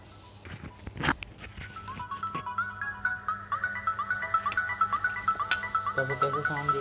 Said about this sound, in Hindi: अभी इसमें हम NCS की कुछ म्यूज़िक प्ले करते हैं।